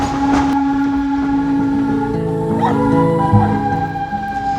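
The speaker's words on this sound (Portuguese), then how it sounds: "o diesel da locomotiva é muito agradável, e também por causa do barulho da locomotiva também" A diesel locomotive pulls a tourist train out of the station on the São João del Rei to Tiradentes line, with a steady engine drone and a held tonal horn, clanking carriages and a sharp knock near the end.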